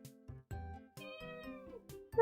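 A cat meows repeatedly up close, several drawn-out tonal calls separated by short pauses, with no talking.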